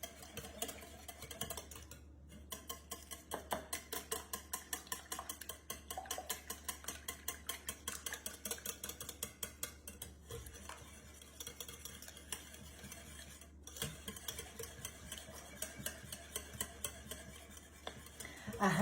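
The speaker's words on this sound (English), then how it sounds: "We're just going to mix this until all the eggs are broken up and it's nice and creamy." A dozen eggs with whipping cream are whisked in a bowl, a fast, steady rhythmic clicking and swishing that continues close up for the whole stretch with only brief pauses.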